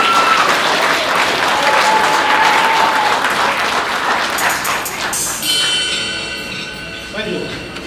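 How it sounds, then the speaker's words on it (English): Loud crowd applause and clapping at a wedding celebration in Melbourne, a dense roar of hands with a whistle early on, fading as ringing, bell-like tones take over near the end. "give King Jesus a big clap."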